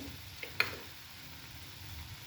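Ingredients for matki dal are sautéed in a pan, a soft continuous sizzle broken by a couple of quick stirring scrapes early on, fairly faint overall.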